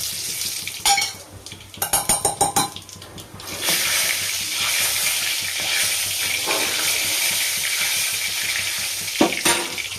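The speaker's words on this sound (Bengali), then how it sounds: "তার আগে শুকনো লঙ্কাটা ফোড়ন দিয়ে নিই।" Dried red chillies and radhuni seeds crackle and sizzle as they hit hot oil in a home kitchen pan, with a run of sharp spitting pops followed by a steady loud frying hiss and occasional utensil scrapes.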